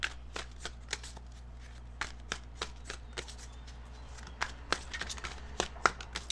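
Tarot cards shuffled and drawn from a deck give a steady run of crisp, close riffling snaps and flicks at an uneven rhythm, with no voices.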